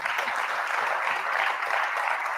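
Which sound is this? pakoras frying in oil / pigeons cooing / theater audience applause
theater audience applause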